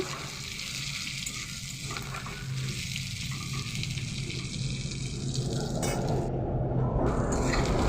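Chopped onions fry in oil with a steady, close sizzle that grows slightly louder and busier toward the end, with occasional stirring scrapes and no talking.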